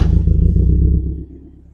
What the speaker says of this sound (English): You can hear that old air-cooled Volkswagen sound.